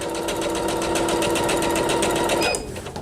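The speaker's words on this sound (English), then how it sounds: "now I'm going to sew" An EverSewn Sparrow X2 sewing machine stitches steadily and close up, its motor whirring with a rapid even needle rhythm for about two and a half seconds before stopping.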